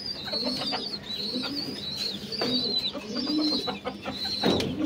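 Pigeons coo inside a home pigeon loft, soft repeated throaty coos overlapping from several birds nearby, with faint higher chirps mixed in and no talking.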